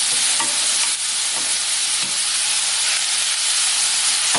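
Pork ribs frying in their own rendered fat, a loud, dense, continuous sizzle and hiss close up, with faint scraping of stirring underneath.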